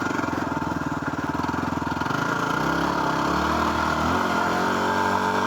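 Small adventure motorcycle climbing a hill, its engine loud and close with a steady pulsing drone that shifts pitch partway through as it pulls up the slope.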